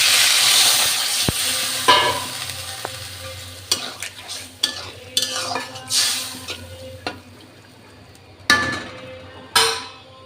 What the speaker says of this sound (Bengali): সিম সিদ্ধর জন্য একটু জল দিয়ে দেবো।